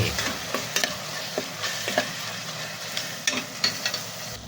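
Ground beef frying in a pan for a broccoli and beef dish, a steady close sizzle broken by irregular scrapes and clinks of a utensil stirring through the meat, with no voices.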